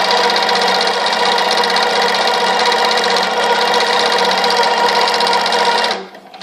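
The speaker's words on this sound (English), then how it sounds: "so now we're going to sew and see what happens." An EQ20 sewing machine stitches at a steady fast pace, a loud close mechanical whir with even rapid clatter that runs continuously for about six seconds, then stops.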